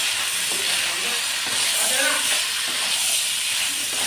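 Ginger-garlic paste with turmeric and chili powder fries in a pan, making a continuous close hiss and sizzle that holds steady throughout.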